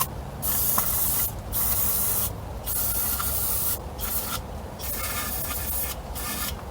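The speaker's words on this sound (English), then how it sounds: "I'm going to spray some carbon choke cleaner just to try to get it in there" Carb choke cleaner sprays in repeated loud hissing bursts into a two-stroke outboard motor's carburetor, close up, each burst about a second long with brief gaps between.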